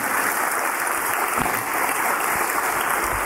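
Secondary-school students and guests at a morning poetry slam in Trinidad give a sustained round of applause, a thick, steady roar of clapping from a large crowd throughout.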